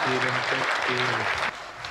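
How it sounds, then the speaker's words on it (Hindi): Audience applause at a Hindi comedy (hasya) poetry gathering, broad steady clapping over two seconds with a voice speaking over it. "थोड़ा तालियों का उत्सव कर दीजिए।"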